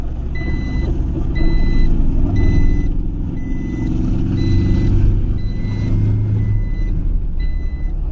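A four-wheel-drive vehicle sits with its engine rumbling steadily while a reversing alarm beeps in a regular, evenly spaced pattern over the engine noise throughout.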